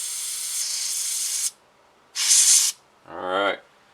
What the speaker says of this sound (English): Spray it down the firing pin hole.